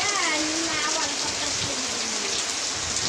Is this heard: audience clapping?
no